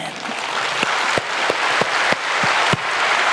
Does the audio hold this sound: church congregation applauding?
yes